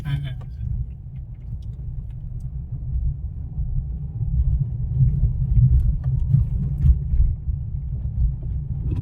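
A learner's car engine idles and rumbles low and steady, rising slightly as gears change, while an instructor talks over it.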